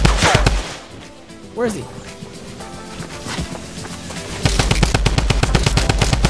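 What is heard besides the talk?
drum gun firing in the video game Fortnite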